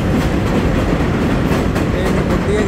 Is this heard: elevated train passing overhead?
yes